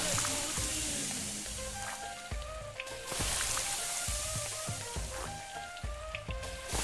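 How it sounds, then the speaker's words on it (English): Food sizzles while cooking in the video game Venba: a steady crackling hiss runs throughout beneath soft, melodic background music, with no voices. "are the sizzling noises too loud?"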